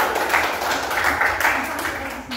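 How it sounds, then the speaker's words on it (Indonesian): A group in a coding and artificial intelligence class competition receives steady, continuous clapping from a room full of people, with voices mixed in. "tepuk tangan untuk kelompok di kompetisi"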